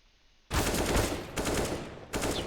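Gunfire exchange in Counter-Strike on the Nuke map, rapid automatic bursts starting abruptly after a quiet moment, loud and close, with a short gap between volleys.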